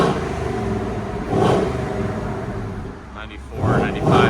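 A 2024 Ford Mustang GT S650 with its 5.0L V8 and factory converters idles with a rumbling exhaust, then swells in two short revs, while people talk over it.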